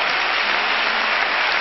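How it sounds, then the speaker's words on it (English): A church congregation claps hands during a 1994 revival service, a dense, steady wash of applause that stays loud and even throughout, with no voices rising above it. "Go ahead and clap your hands about that."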